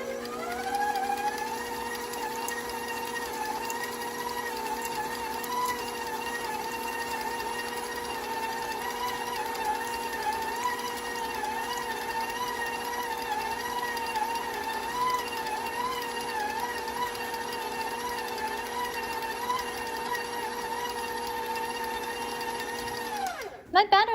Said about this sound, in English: I'm going to mix it just a little bit longer.